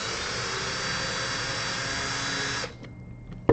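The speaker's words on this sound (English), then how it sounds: "place the drill bit into place and then gently enable the unscrewing of this" A drill backs a screw out of a RoboDuels Hammerhead V2 sumobot during a battery replacement, giving a steady, close, loud whirring for about two and a half seconds before it cuts off, leaving a few faint clicks and a final knock.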